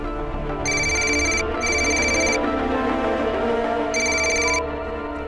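A telephone rings in repeated electronic trills, three bursts with short gaps between them, loud and close over a faint background hum.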